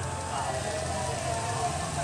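Steady rain falls at an outdoor festival parade, making an even hiss with a low background rumble. The wash of sound holds constant throughout, and no one speaks.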